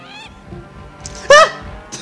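A bird in The Legend of Zelda: The Wind Waker lets out one sharp, loud honking squawk among quieter game sounds, with another short call near the end.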